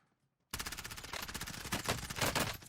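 Warzone gunfight erupting after near silence, a loud sustained volley of rapid automatic gunfire with overlapping shots continuing to the end.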